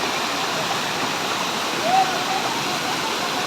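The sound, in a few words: Zenith waterfall pouring loudly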